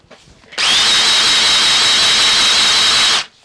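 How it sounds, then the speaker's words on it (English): A Stuart 11a model steam engine runs in a steady, even high whirring hiss that cuts in abruptly, holds loud and unchanging for under three seconds, then stops cleanly. "It's actually making steam engine type noises there."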